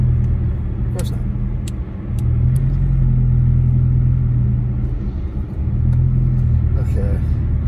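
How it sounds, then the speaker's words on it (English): Car engine rumbling steadily from inside a vehicle on a snowy mountain road near Big Bear Lake, California, at dusk, with another car's engine swelling and fading as it passes, loud and continuous throughout. "I wish this car would hurry past us so I could turn on the brights."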